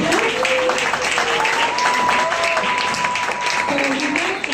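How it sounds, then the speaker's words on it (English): Applause from a Carnatic music concert audience for the vocalists and accompanists, a steady broadband patter filling the room, with a sustained tonal line and some voices mixed in underneath. "Let them give them all a round of applause."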